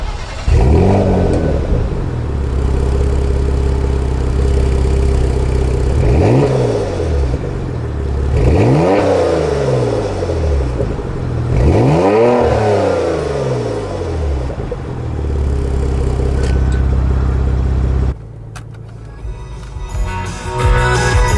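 A 2017/18 Porsche Macan GTS engine revved repeatedly, with several rising-and-falling surges building to loud peaks over a steady rumble before cutting off abruptly near the end.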